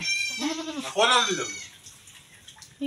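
A goat bleats close by, two wavering, nasal calls in quick succession, then fades into quiet background noise.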